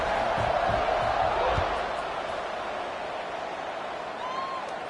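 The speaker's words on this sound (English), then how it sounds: "this crowd is buzzing after that last score" Stadium crowd in the College Football 26 video game, a broad steady roar and buzz that swells loudly at first, then settles to a sustained, slightly softer hum of many voices.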